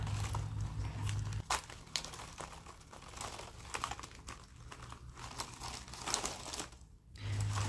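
A woven plastic-strip basket, heart-shaped, is squeezed and folded by hand, giving close, irregular crinkling and crackling bursts with brief pauses and no voices.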